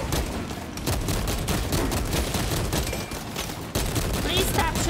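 Sustained bursts of rapid enemy gunfire in the video game Space Marine 2, a dense crackling fusillade of automatic weapons, loud and continuous with a brief dip before resuming.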